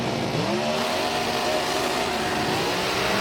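Drag racing cars launch down the strip, engines revving hard and climbing in pitch at the start before settling into a steady distant roar, with no voices.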